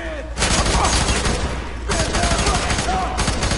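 Rapid bursts of gunfire in the video game F.E.A.R. 3 crackle almost continuously, dense and loud, with a short lull between volleys; a voice is faintly present underneath.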